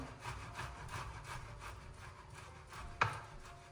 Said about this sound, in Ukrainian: Натираємо картопельку на велику терку